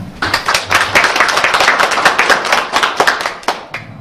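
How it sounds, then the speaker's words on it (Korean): Warm audience applause at a Korean award ceremony welcoming the head of the Liberation Association to the stage, dense overlapping claps sustained at steady loudness, then tapering near the end. "뜨거운 박수와 함께 맞이해 주시기 바랍니다."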